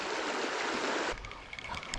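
A trout creek flows with a steady broadband rush of running water, close and loud for about a second before it drops to a softer trickle with small splashes.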